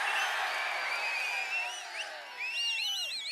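A large crowd at an AIADMK election campaign rally roars steadily, with shrill whistles rising and warbling above the din, moderately loud and spread out, and louder bursts of whistling toward the end.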